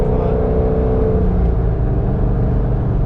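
A cammed C6 Corvette Z06 with a modified LS7 V8, stock exhaust and long tube headers revs loudly up close, a deep throaty exhaust roar that rises and settles into a steady rumble.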